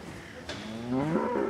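A dairy cow lets out a single drawn-out moo that rises and then holds steady, loud and close, with no other sounds around it.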